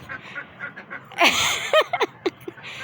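A duck quacks several times close by, short rasping calls bunched together over faint background noise.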